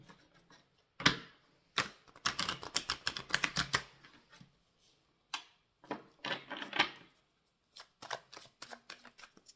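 A deck of tarot cards is shuffled in repeated quick riffling bursts, close and crisp, with short pauses between rounds and no talking.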